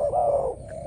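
Malaysian decoy dove (Đồng Son type) cooing, a low steady coo that swells and fades over about a second, close and clear with no one talking.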